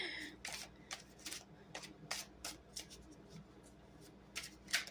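A deck of oracle cards is shuffled by hand in quick, crisp bursts of riffling and sliding, close and fairly quiet, with short pauses between shuffles.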